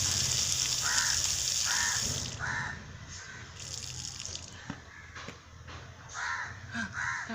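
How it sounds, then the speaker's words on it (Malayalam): A crow caws outdoors in several short harsh bursts, two or three at a time, near and clear over the steady splash of water running from a tap into a sink. "കാക്ക എവിടെ?"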